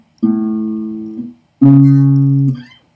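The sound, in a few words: A major 7 arpeggio played along one string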